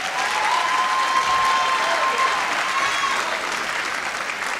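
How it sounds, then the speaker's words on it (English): A hall audience at a Black History celebration applauds a school choir and ensemble, loud, dense, continuous clapping that holds steady throughout, with a faint sustained tone audible in the background early on. "another round of applause"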